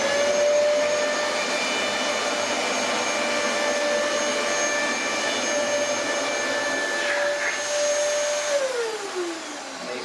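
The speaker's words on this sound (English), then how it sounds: "So this is using the Dyson DC33 vacuum on carpet mode." Dyson DC33 vacuum cleaner running on carpet mode, a loud, steady close-up roar with a constant whine that drops slightly in pitch near the end.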